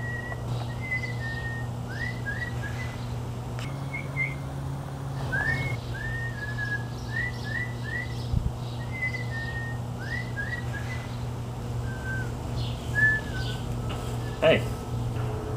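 A person whistles imitations of bird calls, a run of short chirping, sliding notes repeated in quick groups over a steady low hum, fairly close and clear.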